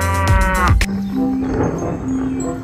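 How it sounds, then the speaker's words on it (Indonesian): A cow at a zoo moos loudly nearby in one long, low drawn-out call, followed by quieter ambient rustling and water noise. "Sapi."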